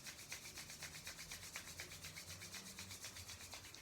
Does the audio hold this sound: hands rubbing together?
yes